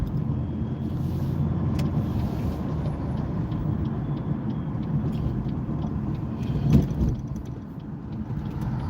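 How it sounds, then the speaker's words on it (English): Heavy road traffic heard from inside a moving vehicle, a steady low engine and tyre rumble with passing cars and a brief louder surge near the end, no voices. "We're back in heavy traffic again."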